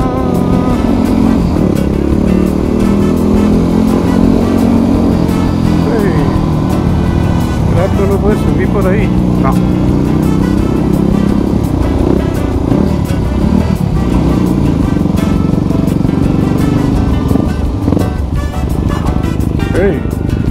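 A Suzuki DRZ 400 SM or Yamaha WR 250 X motorcycle is ridden with a loud, constant engine roar and wind rush throughout, its pitch wavering slightly, while a rider talks over it.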